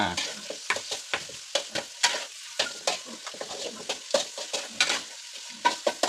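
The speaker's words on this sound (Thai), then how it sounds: "อย่างนี้ทอดกรอบเลยครับ" Dried chilies fry crisp in a pan with oil, bursts of crackling sizzle rising and falling in quick pulses as they are stirred and tossed, close and fairly quiet, with no talking.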